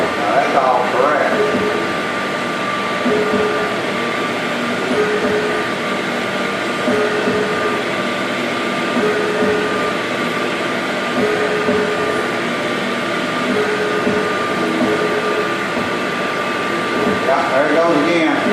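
A CNC mill runs a drill cycle with a steady mechanical drone and faint high whine, a soft repeating tone pulsing at regular intervals through the cycle, continuous and fairly loud at close range.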